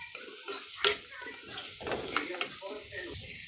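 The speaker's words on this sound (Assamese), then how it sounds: "তাৰপিছত আকৌ এনেদৰে লৰাই দিম।" Chickpeas and potatoes stirred while frying in a pan, with scraping and clinking of a utensil against the metal over a steady sizzle, a couple of sharper knocks standing out, close and moderately loud.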